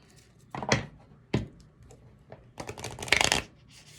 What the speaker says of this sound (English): with this deck I have trouble shuffling it